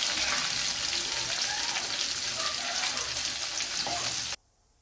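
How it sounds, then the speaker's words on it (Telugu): Onion pieces frying in oil for a fish curry, a steady dense crackling sizzle close by that continues evenly and then cuts off abruptly near the end. "ఎర్రగా వేగిపోతున్నాయి ఉల్లిపాయలు."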